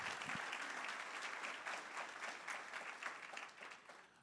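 Audience at a welcome and opening session applauds in a steady, dense burst of clapping that fills the room at moderate level and tapers slightly toward the end.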